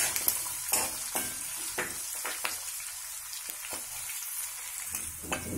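Green chillies and roasted chana dal sizzling in hot tempering oil for temple-style pulihora, a steady fry crackle with sharp bursts and stirring scrapes, close and alone without talk.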